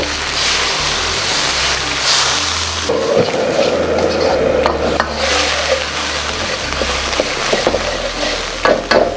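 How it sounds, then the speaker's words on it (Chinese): Minced pork being stir-fried slowly in a wok with aromatics for Thai basil pork, a loud steady sizzle with scraping stirs and a brief splash of added water. "然后小肉下去，慢炒"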